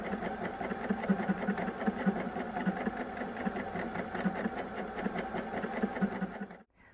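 A sewing machine runs steadily at speed, its needle chattering in a fast even rhythm as thread feeds from a Superior Thread holder, close and loud before stopping abruptly at the end.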